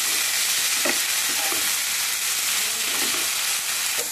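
Chopped tomato frying in oil with ginger and garlic paste, a continuous bright sizzle with faint stirring scrapes scattered through it, no talk.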